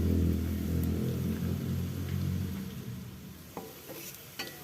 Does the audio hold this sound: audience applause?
no